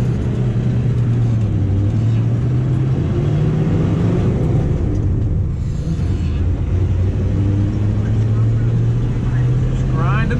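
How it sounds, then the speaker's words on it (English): A cheap diesel dump truck's engine drones and revs up and down under a touchy gas pedal, a loud steady rumble heard from inside the cab while someone talks over it. "Touch that thing and it just revs up super high."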